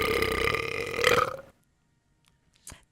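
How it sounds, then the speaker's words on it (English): A single loud, drawn-out burp of about one and a half seconds, close and alone, followed by near silence and a brief soft knock near the end. "I did not burp."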